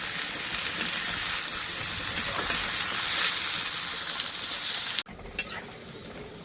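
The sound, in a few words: vegetables sizzling while frying for chow mein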